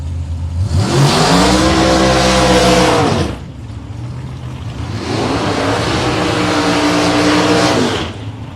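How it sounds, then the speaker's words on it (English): A drag racing dragster powered by a 560 cubic inch Chevy engine roars loudly at close range in two long full-throttle bursts, its pitch climbing through each run, with a brief dip between them. "So Jerry Fitz dragster with a 560 cubic inch Chevy."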